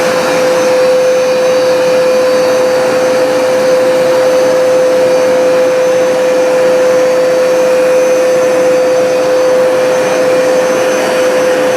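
A Hoover SmartWash carpet cleaner runs continuously and loudly, a steady motor whine with a strong fixed tone over broad airy rushing noise, with no talking.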